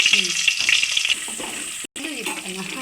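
Silver fish fry in hot oil in a home kitchen, a close, busy crackling sizzle with a brief stir or clatter and a short dropout near the end, without talking.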